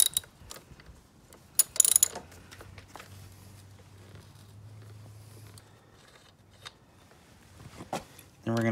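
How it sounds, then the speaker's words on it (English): A wrench loosens the rear wheel nut on a Yamaha PW80 motorbike, giving loud close ratcheting clicks and metallic knocks early on, then a low steady hum with occasional small taps and a final clunk. "you're going to need a 19 mil to loosen this nut off."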